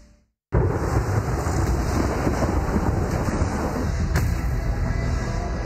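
Heavy stormy rain with thunder: a dense, steady roar of downpour and rumbling that begins abruptly after a short pause and stays loud throughout, with no voices.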